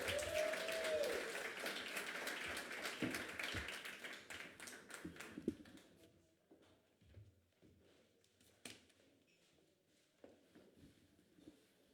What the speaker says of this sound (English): Give a big round of applause for Terry Caldwell Johnson, y'all